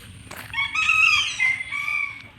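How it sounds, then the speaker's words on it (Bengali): A chicken at the Jangal Mahal zoological park gives a single close, clear call of about two seconds that rises and trails off, heard over faint background noise with no talking. "মুরগি"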